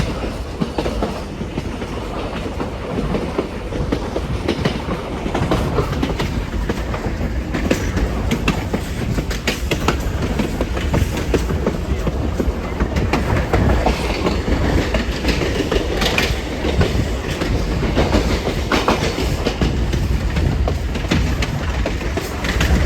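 Passenger train running on rails between Puno and Cusco in Peru, passing through the Marangani district toward Sicuani; a steady, loud rumble with rhythmic clickety-clack of wheels over rail joints, continuous throughout with no talk.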